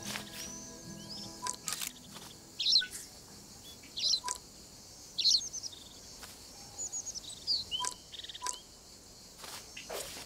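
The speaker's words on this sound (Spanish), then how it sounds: "Hay un pájaro aquí." Birdsong in the wildlife video game Alba: A Wildlife Adventure: short, bright chirps repeating every second or so over a soft, constant outdoor ambience, with faint clicks scattered between.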